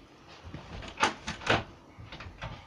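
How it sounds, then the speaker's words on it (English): A door being shut indoors, a few soft scraping and knocking thuds building to two louder bumps, then quieter settling clicks, with no talking. "let me just close my door."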